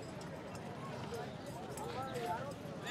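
Horses' hooves clip-clop faintly on the ground at a horse market where foals and adult horses stand, mixed with steady background crowd noise and a soft whinny.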